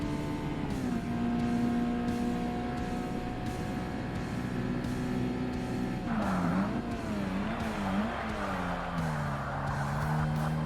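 Mazda Miata race car in the Forza Motorsport video game, its engine droning steadily with shifting pitch, then revving and dipping through gear changes with brief tire squeal about six seconds in, loud and continuous throughout.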